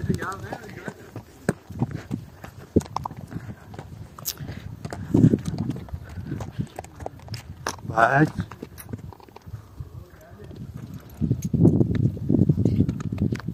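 Horse hooves clip-clop on a Mushkpuri mountain hiking track, close and irregular, buried under near-constant chatter from riders and people around them.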